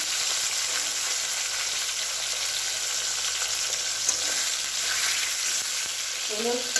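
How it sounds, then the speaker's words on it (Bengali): Oil hisses and sizzles steadily in a kadai (wok) while prawn malaikari is being cooked. The frying noise is loud and continuous throughout, with a few faint clinks near the end. "চিংড়ি মাছগুলো আমার সব ভাজা হয়ে গেছে। এবার কড়াইয়ে তেল দিয়ে দিয়েছি"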